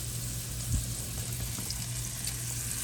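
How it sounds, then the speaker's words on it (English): Lamb chops fry in a pan with a steady, quiet sizzle and crackle, one soft thump partway through, and an underlying low hum. "Get those lamb chops going."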